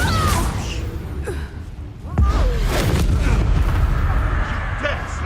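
Incendio fire spell from a Harry Potter video game: a sharp burst lands near the middle, followed by a roaring, crackling rush of flame over low rumbling, with game effects and faint voice-like sounds around it.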